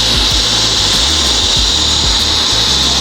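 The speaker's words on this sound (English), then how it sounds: "It's just tacking right now, my guy. Just tacking." Tack welding on metal piping for a V-mount turbo setup on a car, a steady loud crackling hiss with uneven low buzzing bursts running throughout, close up and alone without talk.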